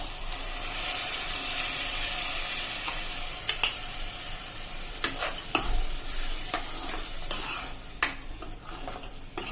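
Tomato puree stirred into sizzling oil-based gravy for a Punjabi potato and capsicum curry, a loud bright hiss that later breaks into repeated scraping and tapping strokes of the spoon against the pan.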